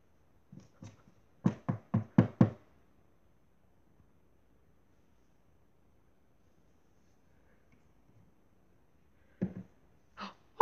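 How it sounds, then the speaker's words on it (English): Knocking on a door of Princess Peach's castle: a couple of light taps, then a quick run of four or five firm knocks, followed by quiet and two more short knocks later. "let's knock at the door"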